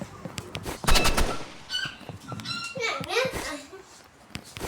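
Video game gunfire rattles in rapid bursts and single sharp shots, loud and near, mixed with excited talking and brief vocal noises.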